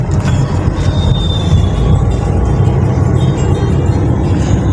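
Road traffic at the Magh Mela in Allahabad, heard from a car as a loud, steady low rumble of engines and tyres, with a faint high whine passing through and no talking.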